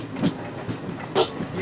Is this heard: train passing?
yes